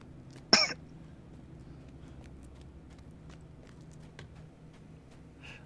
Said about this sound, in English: I like the well-timed little coughs.